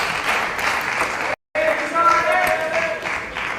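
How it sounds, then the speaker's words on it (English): A crowd at a women's singles table tennis semifinal murmurs and stirs in a continuous hubbub, broken by a brief silent gap, with a couple of faint pings and a voice talking over it. "Stir in the crowd, murmur, hubbub of high expectations here."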